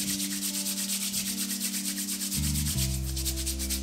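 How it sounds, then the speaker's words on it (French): Two hands rubbed firmly together to warm them, a steady dry friction sound running continuously and close up, loud and alone. "on va réchauffer les mains comme si on se lavait les mains. Voilà, on frotte"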